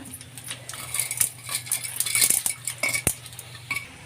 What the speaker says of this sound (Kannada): ಈಗ ಉದ್ದಿನ ಬೇಳೆ ಕಡಲೆಬೇಳೆ ಹಾಕೋಣ